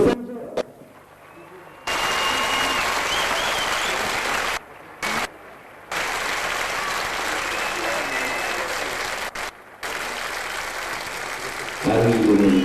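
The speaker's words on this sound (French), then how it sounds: "Dans un instant, vous allez leur porter une ovation d'un autre monde." An audience applauds riders from a pony club after a horse carousel display, with loud clapping and cheering in long bursts broken by brief gaps, and a voice heard near the end.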